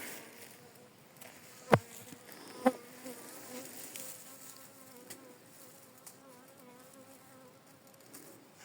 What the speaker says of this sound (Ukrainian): Так, бджола пристала.